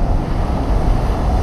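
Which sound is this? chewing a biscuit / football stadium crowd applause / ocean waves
ocean waves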